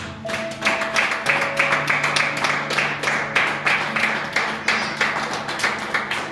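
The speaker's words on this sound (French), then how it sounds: "Est-ce que tu peux applaudir la parole de Dieu?" Church congregation clapping at a service in Chalon-sur-Saône, a steady rhythmic clap from many hands that carries evenly through the whole stretch, with a faint sustained musical tone underneath.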